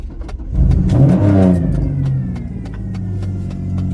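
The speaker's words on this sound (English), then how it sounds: "You want your engine to make some noise." A car engine revs hard once, surging to a loud, close roar before dropping back to a steady idle rumble.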